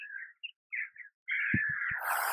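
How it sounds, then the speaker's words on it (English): Crows caw outdoors in a series of harsh, fairly distant calls, some short and some drawn out, with a few low thuds partway through and a rising hiss toward the end. "All the crows."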